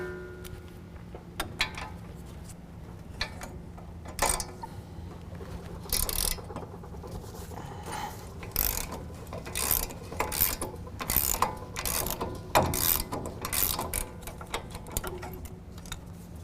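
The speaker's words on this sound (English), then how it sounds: "use a 21mm to remove our brake caliper bracket, which is going to be the bolt here and then the bolt right here" A ratchet with a 21mm socket loosens the brake caliper bracket bolts on a truck during a brake kit install. Steady, close clicking runs throughout, with bursts of faster ratcheting and occasional clanks of metal, and no speech.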